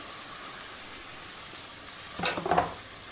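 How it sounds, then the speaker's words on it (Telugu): Tomato pieces drop into browned onions in a pan, giving a soft steady sizzle with a brief burst of louder frying and stirring near the end. "ఇప్పుడైతే ఉల్లిపాయలు బ్రౌన్ కలర్లో వేగిపోయినాయి. ఇందులో టమాటా ముక్కలు వేద్దాం."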